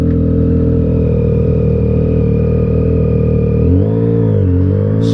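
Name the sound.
dirt bike accelerating for a wheelie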